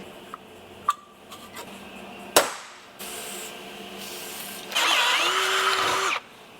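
A few sharp knocks, then a power drill whirs briefly and runs again in a longer, louder burst before stopping.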